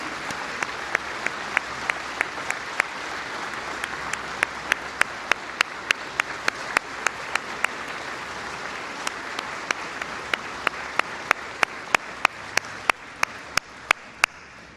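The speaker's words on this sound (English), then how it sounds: "Would you join me in just giving a round of applause to the men and women serving in law enforcement at every level" A large crowd at a White House event applauds for law enforcement officers, a continuous wash of clapping at moderate level, punctuated by sharp, regularly spaced clicks that sound like camera shutters firing throughout.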